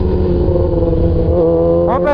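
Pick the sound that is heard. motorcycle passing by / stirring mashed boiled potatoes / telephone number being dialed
motorcycle passing by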